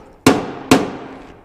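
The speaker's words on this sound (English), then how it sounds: "So I got my handy dandy pinch weld hammer." A pinch weld hammer taps twice on the sheet-metal tunnel cover of a 1967 Chevelle: two sharp, loud metallic strikes about half a second apart, each ringing out and fading, with no voices.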